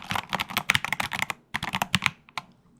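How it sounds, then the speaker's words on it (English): Quick bursts of clicky keystrokes on a computer keyboard, close and crisp, in two rapid runs with a short pause between them. "You could hear the sound of a keyboard being typed on."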